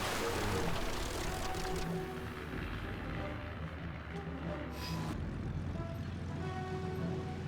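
Propeller fighter plane engine in War Thunder droning steadily and loudly through the whole stretch, a continuous broadband roar with a brief hiss midway, while someone talks over it.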